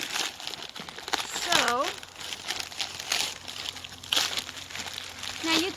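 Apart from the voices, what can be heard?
peeling frozen pine pitch off a crinkling plastic bag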